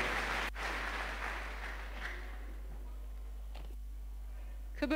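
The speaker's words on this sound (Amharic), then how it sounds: "አጨብጭቡላት" A church congregation applauding together, a broad sustained clapping that fades somewhat over the seconds, with a few sharp louder claps near the end and no talking.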